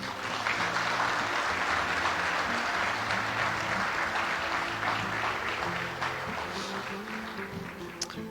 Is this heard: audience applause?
yes